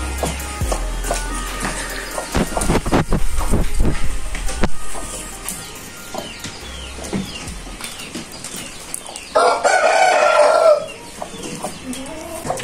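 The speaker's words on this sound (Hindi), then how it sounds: "बाकी ये है मुर्गा" Chickens and roosters cluck and squawk nearby, with wings flapping and a burst of louder crowing-like calls, against a busy farmyard background.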